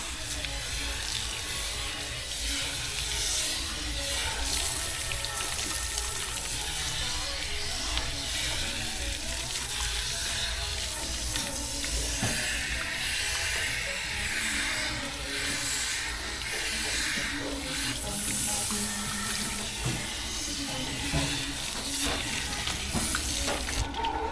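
Tap water runs steadily at a barbershop hair-washing sink, a continuous close hiss and splash that holds for the whole stretch with no talking.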